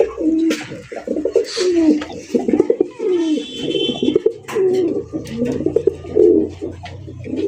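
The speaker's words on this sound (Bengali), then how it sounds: "হাসান ভাই মাশাআল্লাহ, এ তো দেখা যায় পুরা আপনার খামারের রাজকীয় একজোড়া রাসগোল্লা কবুতর" A pair of royal pigeons on a farm cooing repeatedly, close and loud, in rhythmic throaty rolling phrases with brief pauses between them.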